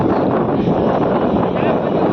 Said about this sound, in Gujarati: ઓહો પવન તો જો